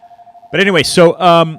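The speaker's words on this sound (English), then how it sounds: "that is a phone that I'm not going to answer" A telephone rings in a radio studio, a repeating electronic warble heard at first alone, then continuing beneath someone talking close to the microphone.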